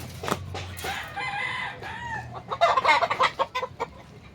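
A backyard stag rooster crows and clucks nearby, with a drawn-out crow followed by a rapid burst of short, sharp clucks. Faint background noise sits beneath it.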